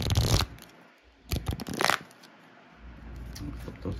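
Large D&D Creature and NPC cards handled and flipped, with two close bursts of brisk card shuffling and rustling separated by a quiet pause.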